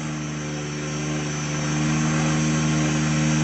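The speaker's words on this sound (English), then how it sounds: "This is how I fly my real helicopter." A real helicopter flies in slow, controlled flight near the ground, a steady rotor and engine drone with a strong low hum that grows slightly louder as it goes on.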